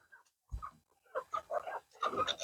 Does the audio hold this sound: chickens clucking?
yes